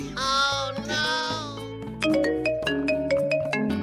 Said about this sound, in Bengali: এই ধনা দেখ কে ফোনটা করেছে